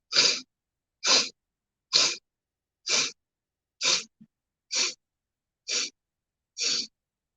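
Eight forceful, evenly spaced exhalations during a breathing exercise, each a short, sharp puff of breath about a second apart, close and clear with silence in between.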